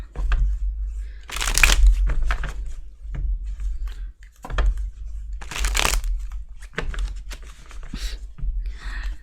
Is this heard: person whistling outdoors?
no